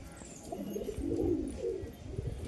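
A female fancy pigeon coos softly and steadily, low rolling calls rising and falling close by, with no voices.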